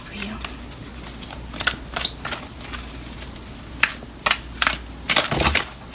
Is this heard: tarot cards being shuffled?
yes